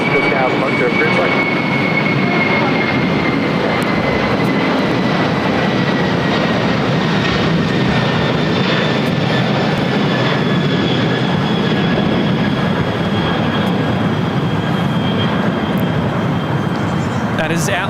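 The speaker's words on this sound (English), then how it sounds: "That is Atlas Air 8359 taking off to Fairfield Travis Air Force Base on the 747-400 converted freighter." An Atlas Air Boeing 747-400 converted freighter takes off at LAX, a loud continuous roar of jet engines with a high whine drifting slowly downward, heard close and sustained throughout, with a voice faintly underneath.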